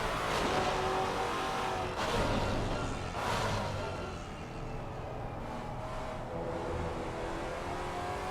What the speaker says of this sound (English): But listen to that roar of that Maserati.